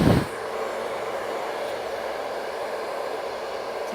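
A handheld hair dryer blows down the hair shaft during a blow-dry, giving a steady, continuous whooshing hum close by, with a brief louder handling noise at the very start and no talking.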